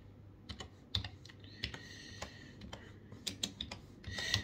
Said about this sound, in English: Just type in Tony.